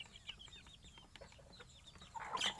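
A young Thai fighting rooster of Mahanakhon bloodline and hens clucking and calling in short bursts, with a louder, brighter squawk near the end, set against steady farmyard background noise.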